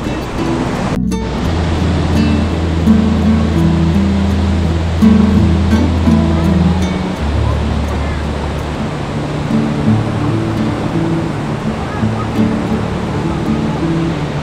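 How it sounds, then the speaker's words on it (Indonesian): Takapala waterfall in Malino, a loud, steady roar of rushing, falling water close by, filling the whole scene with dense broadband noise and a low rumble underneath. "Air terjun Takapala."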